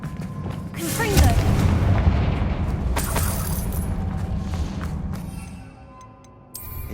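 A Confringo fire spell blasts in Hogwarts Legacy, a loud booming burst with crackling debris that rumbles on for several seconds, then fades before a fresh sharp hit at the end.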